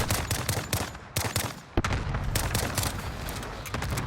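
Rapid gunfire from Call of Duty: Modern Warfare rattles in dense, steady bursts, loud and close, with one brief gap before the shooting resumes.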